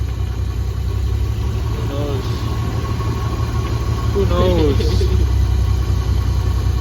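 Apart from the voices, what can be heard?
Toyota Supra engine running with rattling exhaust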